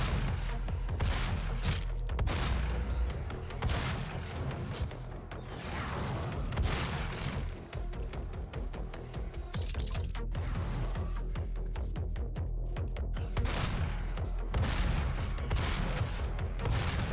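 Rapid bursts of gunfire and explosions from the first-person shooter game DOOM, dense and continuous with booming hits and mechanical clatter throughout, loud and busy with no talking.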